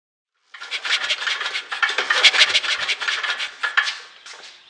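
A starter cord on a Craftsman generator is yanked, giving a close, loud raspy ratcheting rub that lasts about four seconds with no talk over it.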